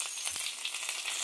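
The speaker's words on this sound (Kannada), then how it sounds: "ಎಣ್ಣೆ ಜೊತೆಗೆ ಸಾಸಿವೆ ಸಿಡಿತಾ ಇದೆ" Mustard seeds spluttering in hot oil for a tempering, a steady soft sizzle with faint crackles and one brief low thump near the start, heard alone.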